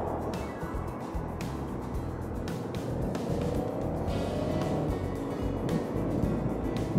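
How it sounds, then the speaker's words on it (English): Busy weekend road traffic rumbles past a waiting Suzuki V-Strom motorcycle rider, with several vehicles swelling and fading in turn over a continuous low engine drone. "Just waiting for the traffic. Very busy road this"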